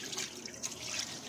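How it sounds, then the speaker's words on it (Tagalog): Water pours over the mudguard and rubber flap of an Isuzu D-Max 2021 during cleaning, a soft continuous splashing and trickling, fairly faint and close, with no voices over it. "At ito, buhusan ko pa rin ng tubig"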